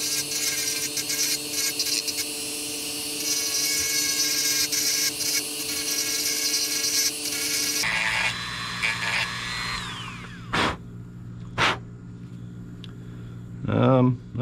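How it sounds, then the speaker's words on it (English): Grinding-sanding on a bolo tie tip, a steady loud abrasive whine for the first half, then the tool winds down and a few short bursts of sanding follow, close by. "it's sanding down very easily"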